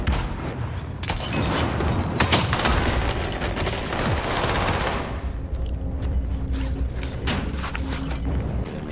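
Rapid bursts of video game gunfire crackle loud and dense through the first half, then thin into scattered shots and clicks over a steady mechanical background.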